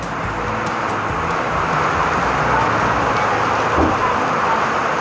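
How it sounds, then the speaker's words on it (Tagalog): Heavy rain pours down outdoors in a loud, dense and unbroken hiss that holds steady for the whole stretch, with no voices over it. "Lakas ng ulan o."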